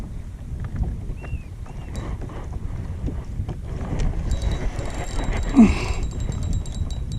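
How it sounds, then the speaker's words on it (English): Steady wind buffets the microphone during kayak fishing on open water, a constant low rumbling roar with faint splashes and a brief thump, no talk. "This wind is not helping any."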